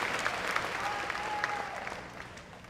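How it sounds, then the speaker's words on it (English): Audience applause at the East Alton Wood River class of 2023 graduation ceremony, honoring ushers and marshals; a steady, moderately distant wash of clapping runs the whole stretch, slowly easing toward the end. "please give your ushers and marshals a nice round of applause"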